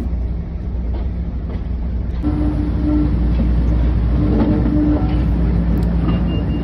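Class 56 diesel locomotive 56006 powers away with a loud, steady, close engine drone and deep rumble, and a tone rises slightly partway through as the exhaust note builds.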